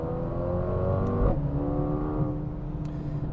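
A 2021 Mercedes-AMG A35 subcompact sedan accelerates with its engine note heard inside the cabin, blended with pumped-in synthetic sound, a steady rising hum with a brief gear-change dip midway, moderately loud and without talk.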